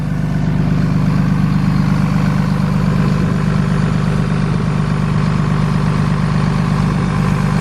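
A 2019 RAM 3500 Limited with a Cummins engine idles at a steady, loud, deep rumble, recorded close and unchanging throughout with no voices.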